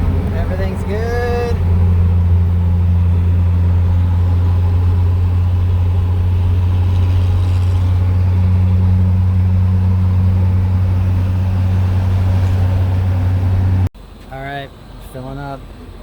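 An IH Travelette truck with a DT360 diesel engine and Allison 1000 transmission drives along with a loud, steady low drone, and a voice talks over the start and end.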